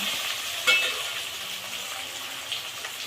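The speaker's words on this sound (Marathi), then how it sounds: "हा 1 टमाटा आहे मोठा चिरलेला, तो आपण टाकूया।" Chopped tomato going into a pan for homemade chicken biryani gives a steady, broad frying sizzle throughout, with a brief louder burst near the start and no voices.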